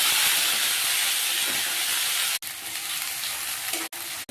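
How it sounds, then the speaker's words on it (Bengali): Chili, ginger paste, mustard paste and turmeric frying in oil make a loud, dense hiss and sizzle close by, broken briefly two or three times as the spices are stirred. "এই মশলাগুলো এবার দিয়ে দিচ্ছি। তেলের উপরে একটু নেড়ে নিচ্ছি।"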